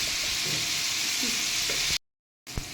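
Tomatoes and masala sizzle and fry in a pan with salt, being stirred while softening for a chicken biryani; a steady broadband hiss continues close up, cuts out briefly, then returns with a small stirring knock.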